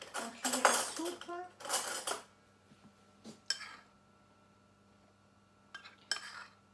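A metal tablespoon scoops chocolate and stirs it into margarine in a bowl for a gluten-free, lactose-free praline chocolate buttercream. Close clinks and scrapes come in short bursts separated by quiet pauses.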